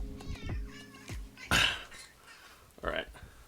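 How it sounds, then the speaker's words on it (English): A pet cat meowing a few times, short calls and one louder drawn-out meow, close by in a quiet room with a person talking between them. "This is this is my parents' cat"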